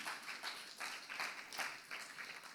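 A church congregation claps together in a faint, rhythmic patter of applause, steady for a couple of seconds with no voices over it.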